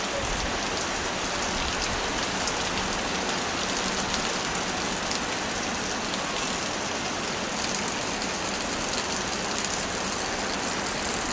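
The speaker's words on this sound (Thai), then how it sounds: "ฝน" Rain falls steadily on a peanut farm field in the rainy season, a continuous, even hiss of drops that holds unchanged from start to finish with no voices.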